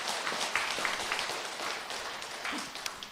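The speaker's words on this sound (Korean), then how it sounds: "함께 박수 한 번 더 크게 쳐보겠습니다" A church congregation claps together at an evening revival meeting, a steady, dense wash of hands clapping throughout, moderately loud and fairly close with no talk.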